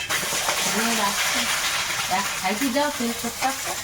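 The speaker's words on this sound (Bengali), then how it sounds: "কড়াইয়ে এখন তেল দিয়ে দিয়েছি এবার ডিম ভেঙে দেবো" Small native chicken eggs hit hot oil in a wok and set off a steady sizzling hiss. Light clinks and a few faint tonal chirps sound under it.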